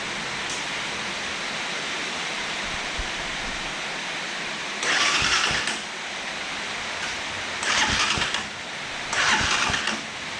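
Keeway Superlight 200 motorcycle engine being cranked over without starting, three short bursts of starter churning against a steady hiss of rain in the background.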